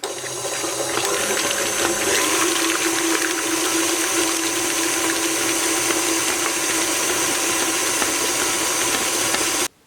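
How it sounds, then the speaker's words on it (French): A whisk beats chocolate chip cake batter with vanilla sugar and eggs, a loud, steady, close whirring that runs without pause for nearly ten seconds before cutting off abruptly, with no speech. "Allez, on va fouetter pendant environ 2 minutes."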